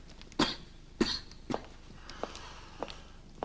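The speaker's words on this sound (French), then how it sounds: "il a toussé toute la journée, toute la nuit" A man coughs hard several times, with three sharp, loud coughs in the first second and a half, then softer, fainter coughs and throat sounds spaced out after them.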